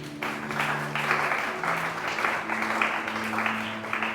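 A church congregation claps steadily and loudly throughout, with sustained applause mixed with a few voices calling out beneath the clapping.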